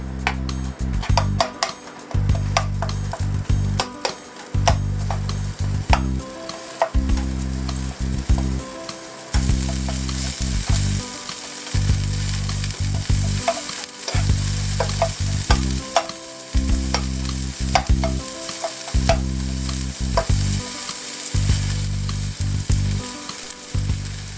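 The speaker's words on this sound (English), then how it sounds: "Fry up the onion with the ginger for a minute." Onion and ginger sizzle steadily in hot oil in a pan, a loud continuous fry broken by a regular rhythm of a utensil stirring and scraping against the metal, with no voices.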